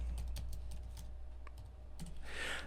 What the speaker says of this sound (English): I have to use a wireless keyboard over here